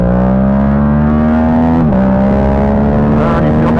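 A Yamaha MT-07 mid-range motorcycle engine runs loud and close, holding a steady droning tone, then drops in pitch once around the middle before settling into a lower steady note.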